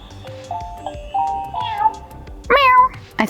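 Several drawn-out meows from a cat, rising and falling, with a louder, sharper meow near the end over faint background noise.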